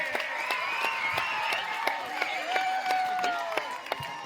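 A large outdoor crowd applauds steadily for a Govinda human pyramid team at a Dahi Handi festival in Harnai, sustained clapping with scattered sharper claps and a commentator's voice running over it.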